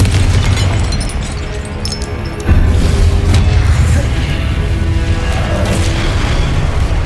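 Confringo blasting spell explosions in the Hogwarts Legacy video game, loud booming blasts with a sharp rise midway over a continuous dense rumble of combat noise.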